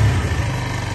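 A 1998 Suzuki TU250X motorcycle engine idles with a steady, low rumble, continuous, even and close, with no voices over it.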